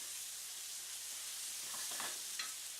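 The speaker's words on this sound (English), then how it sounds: "I put the yeast flakes in and I stir it" Vegetables coated in yeast flakes are stirred in a sizzling pan, giving a steady close frying hiss with a few soft scraping strokes and no talk.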